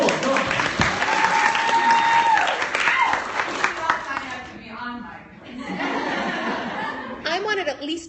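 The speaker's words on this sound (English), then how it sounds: "Yes, let's give her a round of applause." An audience gives a round of applause, with dense clapping and some laughter filling most of the stretch; the clapping thins midway, then swells again near the end.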